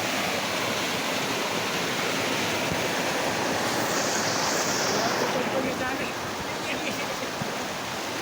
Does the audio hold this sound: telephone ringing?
no